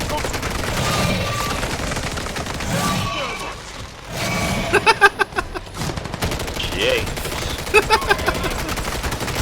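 Rapid gunfire in Call of Duty MW3 zombies mode, with repeated bursts of sharp shots over a dense game soundscape and someone talking over it.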